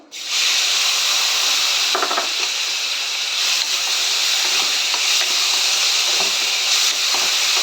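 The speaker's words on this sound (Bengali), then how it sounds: "এই তেলে দিয়ে দেব আমি কিছু কুচনো পেঁয়াজ।" Chopped onion frying in hot oil gives a loud, steady sizzle and hiss, broken by a few soft stirring scrapes, close up and with no voices.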